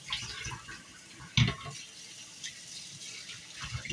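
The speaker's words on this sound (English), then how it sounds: "Wash your hands." Tap water runs into a sink as hands are washed, a steady close rush with splashing and one brief louder knock midway.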